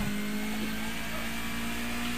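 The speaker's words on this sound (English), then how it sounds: "I love the sound of this car so much" A race car engine in Project Cars 2 revs loudly and steadily, its high whine holding continuous and close, with no voices.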